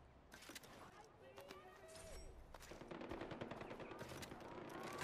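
Gunfire in the video game Far Cry 4: rapid shots and bursts crackle steadily through the clip, mixed with other in-game sounds and growing slightly louder toward the end.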